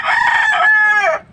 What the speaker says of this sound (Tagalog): comment lang kayo kung Serama Bantam talaga ang tawag dito sa mga manok na ito